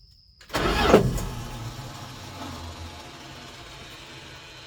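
A car engine at a speed shop fires up after starting fluid is sprayed down the carburetor: a sudden loud catch and roar that settles into a steady, rough idle.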